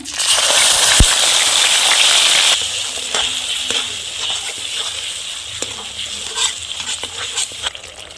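Cumin, cinnamon, cardamom, bay leaves and onion paste fry in hot oil for an aloo dum, a loud steady sizzle that quiets partway through into softer crackling with occasional stirring clatter.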